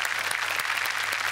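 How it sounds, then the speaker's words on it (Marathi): A studio audience at a Marathi comedy show claps in a dense, steady burst of applause, loud and close, filling the whole short moment without a break. "जोरदार टाळ्या झाल्या पाहिजेत ओमकार कर्वे यांच्यासाठी"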